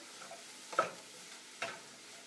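Food for sweet potato pad thai being stirred in a pan: two brief, soft scraping strokes over a faint steady sizzle, close and quiet, with no talking.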